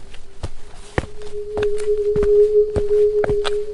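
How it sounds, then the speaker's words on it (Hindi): Footsteps climb iron stairs as a horror sound effect, a series of sharp metallic steps over a sustained eerie tone. "कोई धीरे धीरे ऊपर चढ़ रहा था।"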